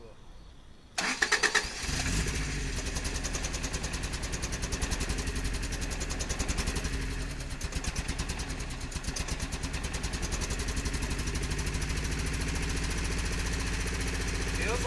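A car engine fires up after a second, following a fuel pump repair, and keeps running with one cylinder misfiring. It gives a rough, uneven, pulsing rumble that stays close and fairly steady.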